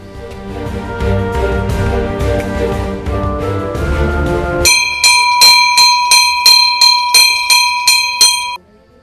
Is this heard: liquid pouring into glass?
no